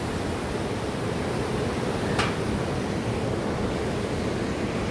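A river rushes steadily beside a riverside lunch spot in the Tsum Valley, a constant broadband roar of flowing water close by, with no voices and one faint brief click.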